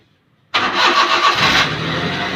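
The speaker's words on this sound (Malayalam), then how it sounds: "ഇനി നമുക്ക് വണ്ടി ഒന്ന് സ്റ്റാർട്ട് ചെയ്ത് നോക്കാം." A Maruti 800 car fitted with a new silencer cranks and catches abruptly after a moment of silence, then settles into a loud, steady, slightly uneven idle close by.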